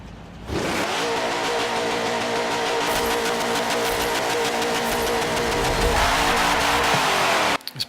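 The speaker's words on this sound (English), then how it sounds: "The sound of this engine is absolutely crazy." The Twin Mill, a car of over 1,000 horsepower in the Forza Motorsport 7 racing game, roars loudly as it accelerates on track, its engine climbing through gears in a sustained harsh drone before cutting off abruptly.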